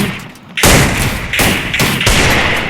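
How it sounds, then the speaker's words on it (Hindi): Gunfire in the Free Fire video game, several loud, close bursts of shots in quick succession after a brief lull, each blast booming and harsh, with no talking. "देखिए कितनी गोलियाँ चला रहा है"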